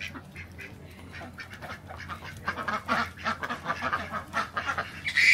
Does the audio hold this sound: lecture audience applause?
no